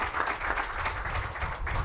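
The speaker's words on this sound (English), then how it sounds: "Let's give our panelists a round of applause" An audience claps for panelists at a discussion event, a brief, even patter of applause heard from within the room.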